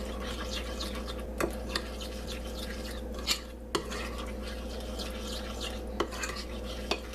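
Seasoning being mixed into meal prep food, a continuous scraping and stirring with occasional sharp clinks of a utensil against the container, fairly close and steady, with no talking.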